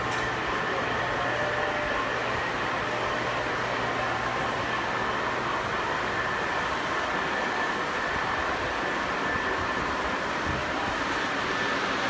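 A model train runs on a large club layout, giving a steady, continuous rolling rumble and hum with a faint whine, unbroken and fairly close throughout.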